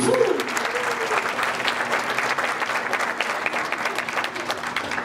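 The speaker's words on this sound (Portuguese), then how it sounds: "Uma salva de palmas para os nossos astros." An audience at a live hypnosis comedy show applauds steadily, a dense wash of clapping that holds even throughout without voices on top.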